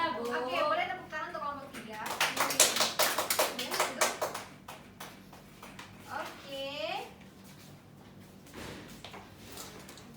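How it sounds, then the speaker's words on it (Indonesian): Students in a junior high classroom clap for a presenting group during a Pythagorean theorem lesson, with dense, uneven clapping that builds and fades over several seconds, plus voices and classroom talk. "boleh tepuk tangan untuk kelompok 3"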